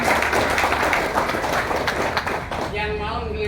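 Villagers at a community gathering clap for Pak Saiful in a short, busy round of applause that fades after a couple of seconds as a voice starts talking over it.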